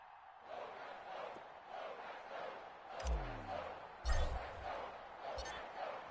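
A sold-out virtual crowd at Gillette Stadium in Foxborough roars in the Madden NFL 22 video game as the Patriots face the Denver Broncos, a steady distant crowd wash with a few louder swells and low thumps.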